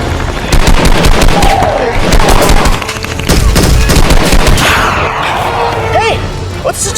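Loud, close gunfire in rapid machine-gun-like bursts with scattered single shots, continuing throughout, with brief voices mixed in.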